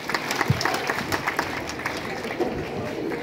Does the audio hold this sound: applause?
yes